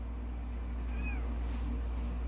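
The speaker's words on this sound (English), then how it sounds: "He meowed." A single short, rising-and-falling cat meow, faint over a low, steady background hum.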